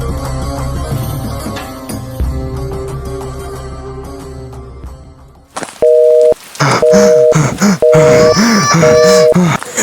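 A phone ringback tone on an unanswered call repeats in regular double bursts, loud and clear, after a stretch of tense orchestral horror-film music.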